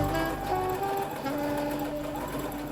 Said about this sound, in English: you can now go and sew the underbust seam